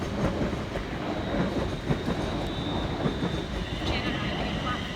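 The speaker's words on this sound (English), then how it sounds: "Also passing by on the high level is 380-108, working 2 Oscar 50 for Scotrail from Cross Hill through to Glasgow Central" A ScotRail class 380 electric train runs past on the high-level line at Pollokshields East station near Glasgow, giving a steady rumble with rhythmic wheel clatter and a faint whine, fairly close and continuous.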